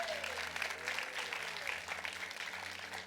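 Congregation applauding during a church service, a broad wash of clapping from many people that continues steadily throughout, heard faint and distant.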